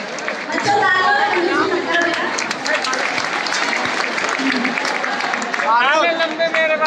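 Students and staff at a polytechnic ceremony applaud a student in loud, steady clapping mixed with crowd chatter, sustained throughout with voices over it.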